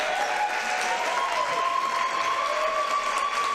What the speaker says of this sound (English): And Olivia Harris will have a chorus of an applause from the Lynchburg faithful.